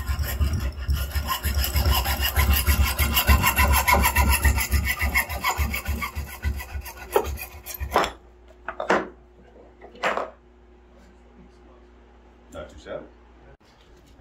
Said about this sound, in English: I spent a long day sawing pipe.